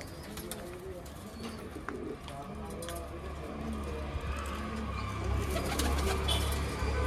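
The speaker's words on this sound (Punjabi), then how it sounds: "ਇੱਧਰ ਬਾਈ ਹੁਣਾਂ ਦੇ ਅਡਾਰ ਵਾਲੇ ਕਬੂਤਰ ਆ" Pigeons coo on a rooftop loft in soft, repeated throaty calls with an occasional wing flutter, while people talk nearby throughout.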